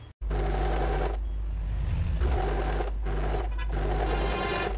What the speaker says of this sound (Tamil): இந்த இடத்துல 1/2 இன்ச் தையல் போட போகிறோம்